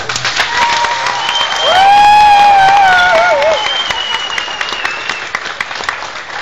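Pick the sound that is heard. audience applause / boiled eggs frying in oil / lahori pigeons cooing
audience applause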